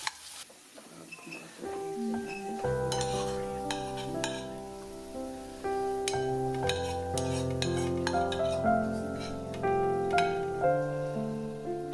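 Dry fruit frying in a pan, with a steady sizzle and the repeated clink of a utensil stirring and scraping against the pan for several seconds. Tonal background music plays throughout.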